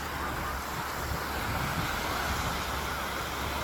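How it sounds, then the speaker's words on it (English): Ocean waves break and wash up on a beach in a constant roar of surf mixed with wind buffeting the microphone, loud and unbroken with no talking. "the waves just keep coming and coming and coming"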